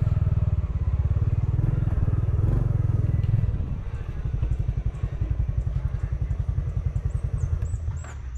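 A motorcycle engine idles close by with a steady low putter, then settles into a slightly lighter, uneven chug for the rest of the clip.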